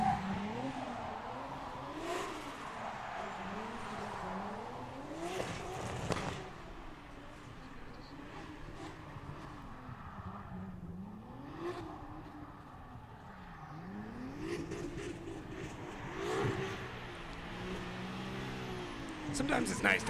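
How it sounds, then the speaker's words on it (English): A 2JZ-powered BMW E36 race car with an LTO Kaiser body kit and stacks runs a circuit at Mondello Park, its engine revving and rising and falling through repeated passes, with tire squeal and voices talking over it. "So this is going to be James in this 2JZ powered BMW E36."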